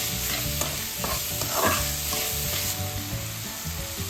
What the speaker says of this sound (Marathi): आता आपण कांदा चांगला गुलाबी रंगावरती परतून घेऊया